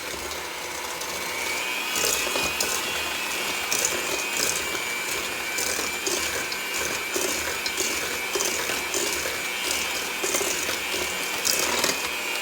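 An electric mixer churns cookie dough in a home kitchen, a continuous loud whirring motor with a rough, rattling grind that pulses irregularly as the beaters work through the dough, without speech.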